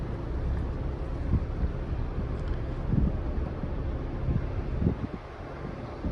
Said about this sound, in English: Wind's blowing